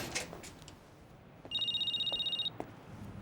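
Telephone ringing indoors in a household, a single electronic warbling ring lasting about a second after a quiet stretch with faint knocks, then a couple of soft clicks.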